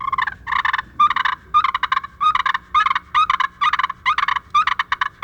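A wild turkey gobbler sounds off in rapid repeated gobbling bursts, about a dozen loud, close, rattling calls in an uneven rhythm with short gaps. The calls are drawn by an aggressive pocket slate call during a spring hunt.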